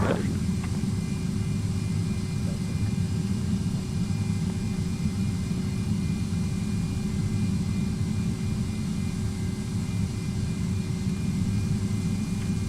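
A Delta MD-88 jetliner in X-Plane 11 gives a steady, droning engine roar. The sound holds at a constant level throughout, with a faint click near the start and no audible talk.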